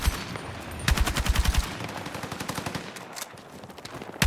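Rapid automatic fire from the War Wolf L85A3 rifle in Battlefield 6 comes in loud bursts, a dense volley first, then scattered shorter strings of shots with a brief lull near the end.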